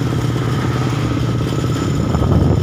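Motorcycles move along a street in Lobo, Batangas, their engines a steady low drone close by with a faint rattle, with no voices over it.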